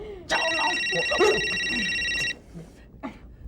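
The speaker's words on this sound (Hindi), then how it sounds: "फोन बज रहा है।" A telephone rings in a home with one loud electronic trill lasting about two seconds, while people talk around it.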